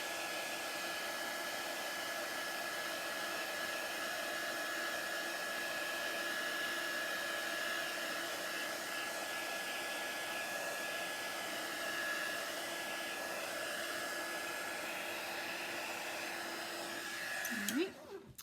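A hair dryer blows a steady, even whir for about seventeen seconds while drying rustic cake decoration letters, then cuts off abruptly at the end.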